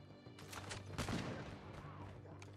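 Single shots from a CR56 Amax assault rifle in COD Mobile, fairly faint, a few sharp reports within a couple of seconds over a steady game background hum.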